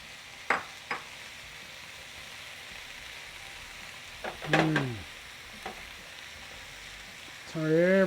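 Cherry tomatoes sizzle in hot olive oil in a pan, a steady crackling fry with a few sharp clicks and pops and some brief voice-like tones at close range.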